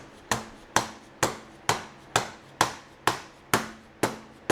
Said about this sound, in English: I've never had to hit these lock-ons with a hammer before, but here we are.